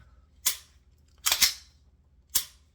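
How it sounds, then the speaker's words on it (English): Three sharp, close clicks from a Glock 17 pistol slide locking, fitted with a replacement slide, each a short dry snap spaced about a second apart. "you can hear that click. That feels like a Glock"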